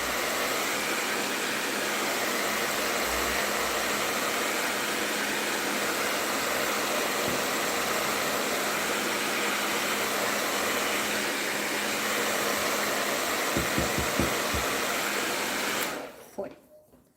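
Hair dryer blowing steadily on a painted rustic decorative plaque with crackle finish, a loud continuous rushing whoosh that runs for about sixteen seconds, then cuts off abruptly.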